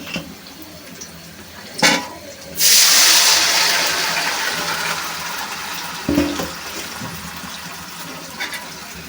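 Boiled taro-leaf cooking water poured into a pan, a loud rushing splash that swells after a couple of soft knocks and then tapers into a steady trickle, close up.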